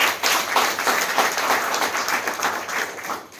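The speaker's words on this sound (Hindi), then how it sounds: "मैं चाहूँगी एक बार मेरे सीनियर के लिए जोरदार ताली।" Loud applause from an audience at a business gathering, a dense burst of many hands clapping together that rises quickly and holds strong for a few seconds before easing slightly.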